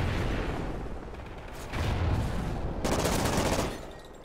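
Rapid hip-fire gunfire in Call of Duty Ghosts, dense bursts of shots rattling continuously with a couple of louder, heavier volleys near the end.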